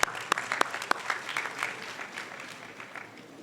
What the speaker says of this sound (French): permettez-moi de vous applaudir chaleureusement